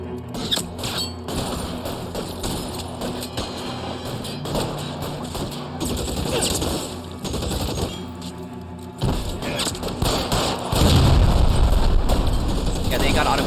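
Automatic weapons fire in a gunfight in the LA Noire video game, dense bursts of rapid shots and thuds running throughout, loud and close, growing heavier near the end, with voices mixed in.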